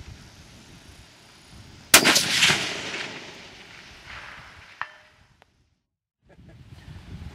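Single precision rifle shot fired at a golf ball target 750 yards away on an outdoor range, a sharp loud crack with a rolling echo that fades over several seconds before near silence.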